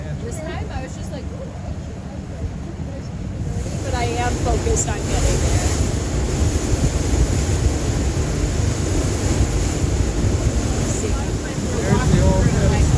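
Boat engine droning on open water near Isle Royale, a continuous rumble mixed with wind buffeting the microphone, which grows louder partway through while a person talks over it.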